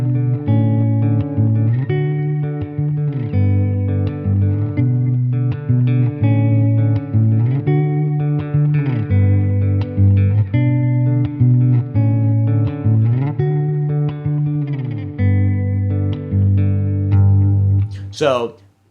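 Steady fingerpicked electric guitar pattern moving through a chord progression, with effects-laden tone and a bright scrape at the very end.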